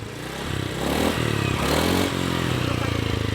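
A motorcycle with something loose rattling underneath: the engine throbs steadily up close while a rough clatter runs through it, with no clear speech.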